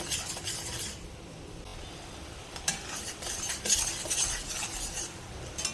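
A spoon scrapes and stirs melted sugar syrup in a pan for mandvi pak, giving steady soft scraping with occasional metallic clinks, close up and moderately quiet, with no voices.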